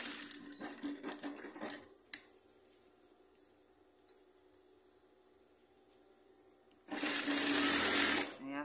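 A sewing machine hems the bottom of a pair of trousers in two loud, rapid whirring bursts, one at the start and one near the end, with a quiet pause and faint handling clicks between them.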